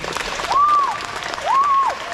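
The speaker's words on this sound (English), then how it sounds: "So let's give these students a round of applause." An elementary school awards ceremony audience claps for students, with a brief burst of crowd applause and two rising-and-falling whistles sounding over it.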